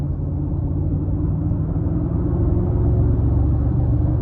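Audi SQ8 engine idling, a steady, deep, close rumble that holds at an even level throughout with no voices.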